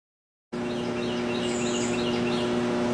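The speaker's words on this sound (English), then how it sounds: "Nothing like hearing a buzz box with birds singing." Faint birds chirp in the distance over a steady electrical hum from an arc welder that starts abruptly after a moment of silence.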